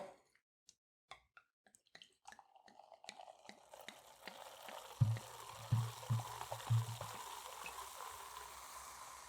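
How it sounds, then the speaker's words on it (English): Wine is poured into a glass: a few quiet clicks and handling taps, then soft, close liquid trickling and splashing, with small plopping pulses as the pour continues, heard alone. "I'm pouring this wine now."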